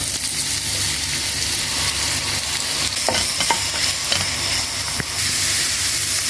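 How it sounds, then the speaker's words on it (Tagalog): Mushrooms fry in butter in a pan with a steady, loud, close sizzle throughout, broken by a few sharp clicks and scrapes of stirring. "Una, iluluto ko dito yung mushroom. I-fry ko siya till light brown."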